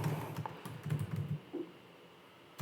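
Quick keystrokes on a computer keyboard as a prompt is typed into Zapier, a short irregular burst of close, soft clicks that thins out, followed by one final louder tap.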